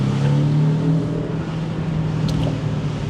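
A Porsche 718 Boxster's lighter engine pulls under acceleration on an open road, giving a steady, loud, low droning growl that holds a fairly even pitch throughout.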